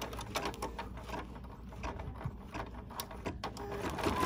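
An embroidery machine stitches an edge-to-edge quilt design with a quiet, rapid mechanical chatter of needle strokes that keeps a steady rhythm at close range.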